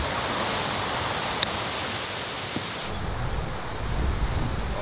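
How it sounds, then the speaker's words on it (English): Strong wind roars across an open golf course, a steady broadband rush with buffeting gusts on the microphone, alone with no talk and a faint tick partway through. "there's so much wind even on short wedge shots"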